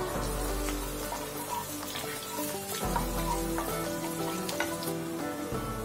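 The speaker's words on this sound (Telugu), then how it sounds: "ఒక మీడియం సైజు ఉల్లిగడ్డని ఇలా చిన్న చిన్న ముక్కలుగా కట్ చేసి ఆయిల్ లో వేసుకోవాలి" Finely chopped medium onion with green and dried red chilies frying in oil in a pan, a continuous close crackling sizzle with occasional small knocks, no voices.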